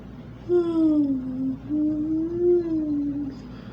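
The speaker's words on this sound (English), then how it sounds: "I actually yawn" A single drawn-out, voiced yawn, a low moaning tone that rises, dips and stretches on for a few seconds, close to the listener.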